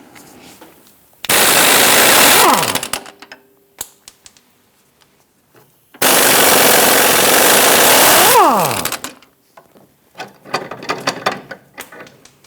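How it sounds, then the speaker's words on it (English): A pneumatic impact wrench spins off a sway bar end link nut on a Jeep Grand Cherokee, two loud close bursts of hammering rattle that wind down sharply, with quieter clinks of tools and parts between and after. "so we go ahead and remove the nut"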